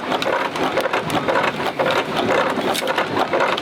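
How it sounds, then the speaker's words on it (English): Grain mill grinding cornmeal at an outdoor farm event, a steady close rumble with gritty crushing and rhythmic pulsing, continuous and loud without speech. "I'm going to see how many miles of cornmeal I grind today."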